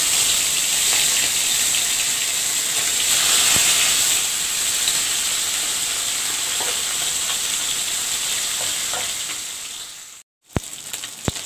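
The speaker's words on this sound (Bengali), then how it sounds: "একটুখানি মাছ ভেজে নেব।" Fish frying in hot oil at home for a seafood dish, a loud continuous close sizzle with crackling that cuts off briefly near the end before a few sharp clatters.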